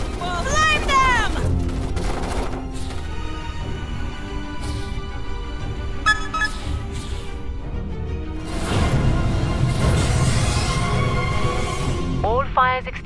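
Gunfire at bugs in a Starship Troopers Raising Hell cutscene, rapid loud volleys and booms over a rumbling battle background, with soldiers shouting between bursts.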